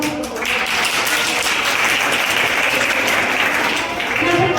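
An audience at a World Disability Day event in a library breaks into sustained applause, dense and even clapping from many hands that continues throughout at a fairly loud level.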